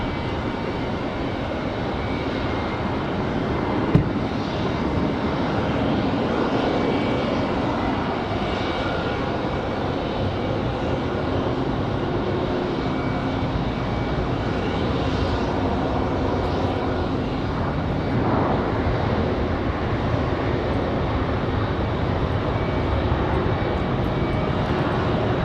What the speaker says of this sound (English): And here comes our Delta from MCO.